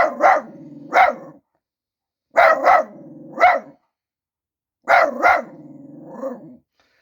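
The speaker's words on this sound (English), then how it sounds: "My dog's getting all excited. Let's see my dog bark." A dog barks close by in three clusters of two or three sharp, resonant barks separated by short silences, the final bark trailing into a softer whine-like growl.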